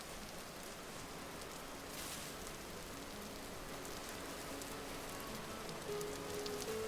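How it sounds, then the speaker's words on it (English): Steady rain pours in the Vintage Story game, a dense, even hiss of drops on surfaces that holds constant throughout with no pauses, moderately loud and without any voices. "Just immediate rain."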